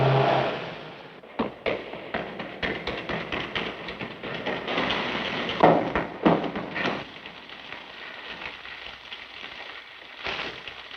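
A 1940s police car engine starts and drives off, a rumbling motor with thumps and bumps that fades and recedes over several seconds, nothing spoken over it.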